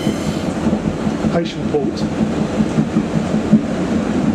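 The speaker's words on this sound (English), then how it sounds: "So this is the inside of the boat train" Inside a passenger boat train running on rails from Leeds toward Heysham Port, a steady loud rumble of wheels and carriage fills the clip, with a brief voice over it.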